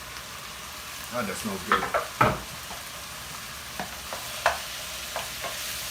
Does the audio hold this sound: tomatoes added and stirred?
yes